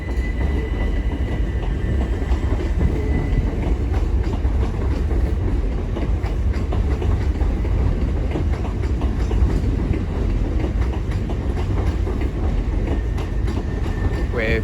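A c2c class 357 electric train departs a London terminus, its wheels rumbling low and steady over the rails for the whole stretch, with faint clicks from the track joints and no voices.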